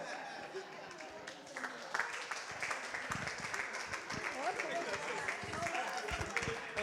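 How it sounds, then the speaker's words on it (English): Wedding guests applaud in a steady, moderately loud round of clapping that swells partway through, with voices mixed in. "Let's give her another round of applause."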